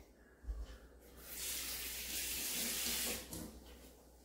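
A kitchen tap runs water during cooking, a steady broad hiss that swells loud for about two seconds and then drops back, with no voices over it.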